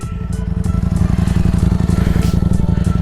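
A motorcycle engine idles loud and close by, with a fast, even chugging throb that holds steady throughout.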